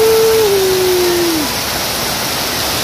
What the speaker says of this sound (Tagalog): Ang unang ulan dito sa Metro Manila.